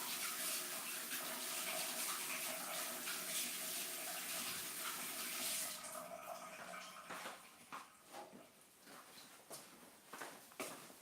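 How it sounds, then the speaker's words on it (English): A tap runs steadily and fairly loud as a paintbrush and hands are washed at a sink, the flow then stops and gives way to softer splashing and handling knocks. "I just go wash my brush. wash also my hands."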